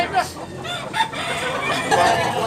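A gamefowl rooster crows nearby at a cockfight gamefowl sale in Tabunok, Cebu, a short, strained crow over a busy background hum with faint voices.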